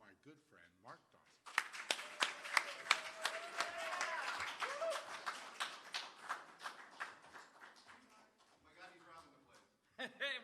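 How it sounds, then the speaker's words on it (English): Applause at a live comedy show, clapping from an audience that swells after a short spoken introduction and runs for several seconds before fading as a voice returns at the end. "How about a big round of applause"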